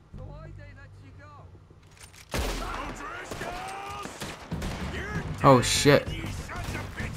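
Gunfire in Red Dead Redemption 2 during a snowstorm, starting with a sudden loud blast and followed by scattered shots and crashes, with someone talking and shouting over it.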